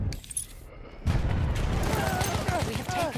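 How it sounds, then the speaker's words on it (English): Grenade blast in Battlefield 1 gameplay, a sudden heavy boom about a second in that rolls into a sustained rumbling, crackling wash, with faint gunfire and scattered tonal game sounds over it. "another grenade's landed on me?"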